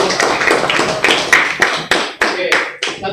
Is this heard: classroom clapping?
yes